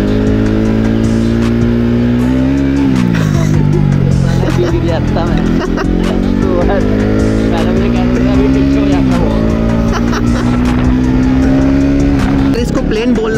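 A Bajaj Pulsar RS 200 motorcycle at full throttle: a loud, close engine note climbs and falls in repeated pulls for about thirteen seconds, with a voice talking over it.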